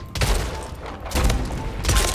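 Shotgun fire in the video game Splitgate: three loud, punchy blasts spaced roughly a second apart, ringing over a steady bed of in-game noise.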